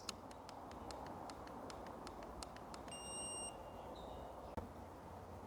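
A single steady electronic beep rings out for about half a second, preceded by a series of faint rhythmic clicks, with a sharp click afterward.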